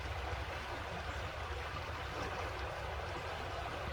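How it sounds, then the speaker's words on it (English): A river flows past a campsite on a misty morning, producing a soft, steady rush of water that stays constant and fairly faint, with no voices. "you can hear the river"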